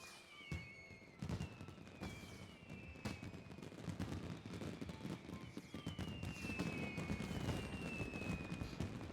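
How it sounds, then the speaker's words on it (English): Fireworks in a Final Fantasy XIV cutscene strike an airship, with crackling bursts and pops and rising whistling streaks building into a sustained rumbling barrage. "And then the airship gets hit with the firework and,"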